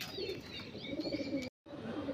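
A female Malayali pigeon being let go gives soft, close cooing and faint chirps over low background noise, with a brief drop-out near the end.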